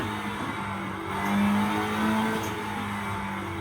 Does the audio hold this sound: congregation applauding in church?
no